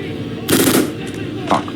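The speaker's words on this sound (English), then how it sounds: "Gunshots. Shit, that's not good." Gunfire in the video game Outlast: Whistleblower: two loud, sharp bursts of rapid shots about a second apart over a low background hum.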